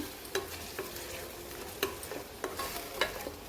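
Masala paste simmers and sizzles in a hot pan with occasional scrapes and stirring clicks, a steady crackle throughout, no voices.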